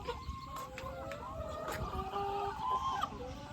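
Chickens cluck repeatedly nearby in short, uneven bursts, with faint voices murmuring in the background.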